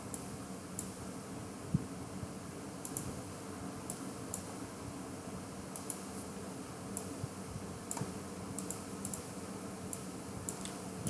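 Computer keyboard typing during spreadsheet data entry, a faint steady patter of light key clicks with occasional sharper taps over a low room hum, no talk.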